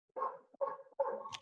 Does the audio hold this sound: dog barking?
yes